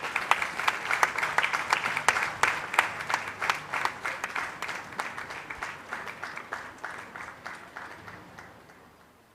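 An audience at an awards ceremony claps in dense, sustained applause, close and even at first, then gradually thinning and fading away.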